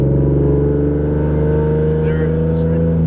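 A Procharged V6 Mustang pulls hard, its loud engine note droning steadily with strong low harmonics, heard from inside the car.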